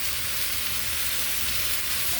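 Garlic sizzles in a hot frying pan while beef and broccoli are being cooked, a loud, even, continuous frying hiss with no pauses and no talk.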